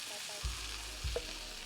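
A steak sizzles in a hot pan, a steady bright frying hiss broken by two soft low thuds as the meat settles, with no voices.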